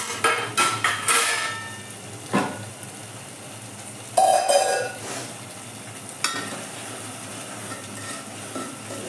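Spice masala being stirred and fried in oil for an urad bean curry, with scraping spoon strokes against the pan over a low sizzle and a few louder clanks at irregular intervals, close by.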